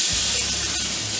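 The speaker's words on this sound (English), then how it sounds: "Here's some nice sizzle." Prepped vegetables and plantains sizzle in avocado oil in a cast iron pan, a steady close hiss of frying with no talking.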